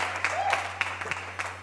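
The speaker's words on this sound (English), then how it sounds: "please, a round of applause for our brother." Church congregation clapping for a visiting minister, a brief patter of hands over a constant low electrical hum, with a short vocal sound mixed in.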